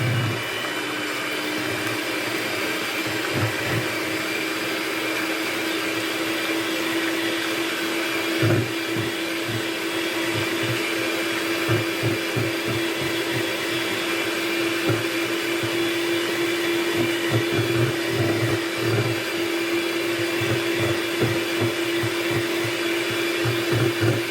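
Electric mixer running steadily on high, whisking Swiss roll batter: a loud, continuous motor whine with a faint rhythmic chopping of beaters in the bowl, with no talking.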